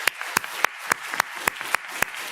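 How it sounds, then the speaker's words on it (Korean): Sharp, evenly spaced claps ring out in a steady rhythm, about eight in a couple of seconds, from a church congregation during a Sunday worship service, sounding somewhat distant and lightly reverberant. "우리 같이 박수."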